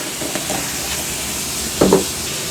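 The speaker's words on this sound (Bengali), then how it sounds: "পনিরটা একটু হালকা লবণ দিলাম একটুখানি বেশ শ্যালো ফ্রাই করে নিচ্ছি" Lightly salted paneer shallow-frying in a pan gives a steady, faint sizzle with one brief louder flare near the end; no voices.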